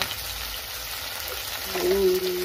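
A ground paste of cumin, ginger and chilli fries in a pan with a constant broadband sizzle that swells toward the end, joined by a faint steady tone.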